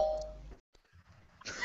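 A doorbell ding-dong sound effect plays briefly as a short chime, followed by a near-silent gap and low murmuring, with another tonal burst at the end.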